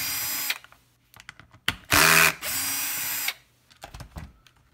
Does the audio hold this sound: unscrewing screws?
yes